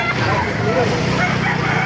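A rooster crows amid the busy, noisy bustle of a chicken market in Baliuag, Bulacan, with people talking nearby over constant crowd din.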